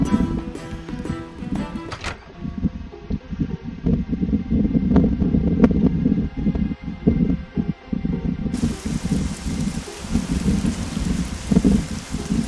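Rain falls outside in the Oblivion role-playing game, a steady, moderately loud patter with an airy hiss, broken by a few soft knocks and shuffles.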